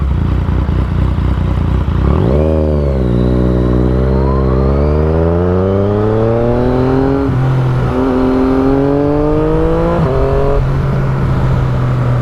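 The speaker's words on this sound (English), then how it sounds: "See how the FZ sounds" Yamaha FZ-09 motorcycle exhaust echoing off city buildings, a loud close engine that revs and pulls away through several rising gear changes, with a strong, sustained growl.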